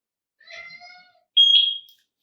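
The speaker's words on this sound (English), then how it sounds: "we heard a beep" A Eufy S350 dual-lens indoor camera emits a short, clear electronic beep while its sync button is held down, preceded by a fainter tonal chirp in an otherwise quiet room.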